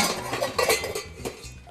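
A cooking pot is handled in a home kitchen while pasta and vegetables are being prepared, giving a few close metallic clanks and knocks spread over a short moment.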